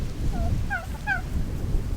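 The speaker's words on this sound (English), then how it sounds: "That rooster will not back down from these turkeys." A few short squawking poultry calls, turkeys and a rooster on a farm, sound close by over a low rumbling background.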